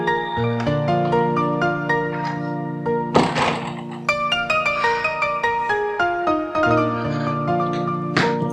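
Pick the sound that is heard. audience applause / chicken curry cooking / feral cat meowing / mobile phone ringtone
mobile phone ringtone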